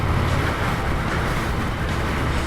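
Engine of a 2019 Harley-Davidson FXDR motorcycle on a road ride in traffic, a loud, steady low rumble heavily mixed with constant wind buffeting across the whole stretch.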